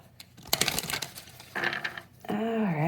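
Tarot cards are shuffled in quick bursts of riffling, snapping clicks, close and crisp, with a voice starting up at the very end.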